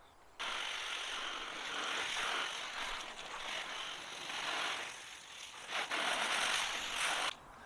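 A pressurised spray bottle rinses a car on a warm day, giving a steady close hissing spray lasting several seconds, with slight surges and a brief break near the end.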